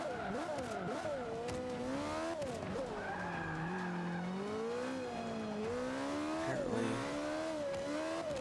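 A car on drift tires revs repeatedly, its engine pitch swooping up and down while the tires squeal and skid. A single word is spoken briefly.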